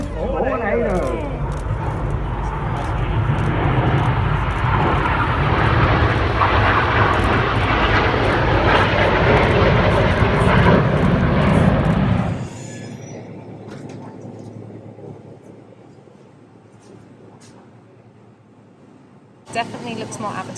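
A Tornado jet roars loudly overhead during an air display with aircraft flying in formation, its engine noise building and holding for about twelve seconds before cutting away to quiet ambient sound and a brief bump.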